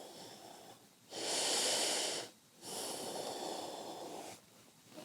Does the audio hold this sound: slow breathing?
yes